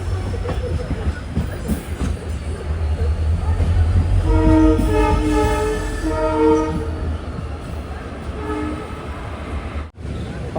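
The Jan Shatabdi Express passenger train runs loudly and close on the Villupuram to Coimbatore route, a deep continuous rumble with a horn sounding midway.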